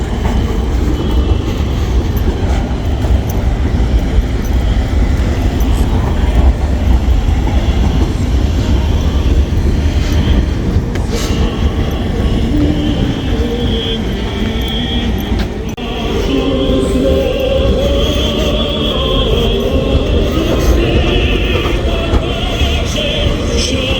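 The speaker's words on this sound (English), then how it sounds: "And here comes a tram." A tram rolls past along a Gothenburg street, a loud, close rumble of wheels on rails with clattering and some high squeal, continuing steadily throughout.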